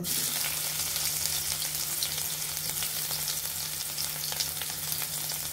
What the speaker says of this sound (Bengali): এখন আমরা পেঁয়াজ কুচিগুলি দিয়ে দেব